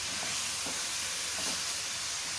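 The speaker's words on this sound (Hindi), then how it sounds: "चिकन अच्छी तरह से फ्राई होने दें" Chicken sizzles steadily in a hot pan for masala chicken, a constant dense frying hiss with faint stirring clicks underneath and no talking.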